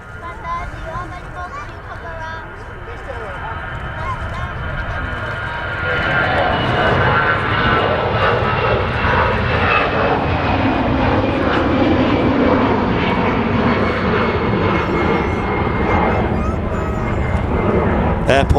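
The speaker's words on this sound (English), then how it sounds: "Air Portugal A320 there, just departing for Lisbon." An Air Portugal A320 departs Manchester Airport for Lisbon, its engine roar swelling from a distant whine to a loud, sustained rumble as it climbs away, with a voice talking over it.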